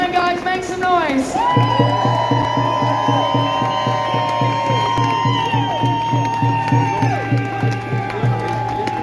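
A crowd at a large London protest makes noise: loud, sustained whistle or horn tones over a steady rhythmic pounding, with voices mixed in throughout.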